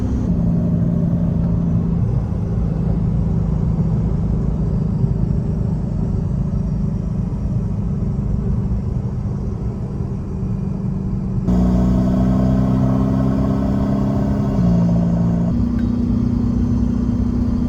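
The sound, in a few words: Volkswagen Jetta TDI car driving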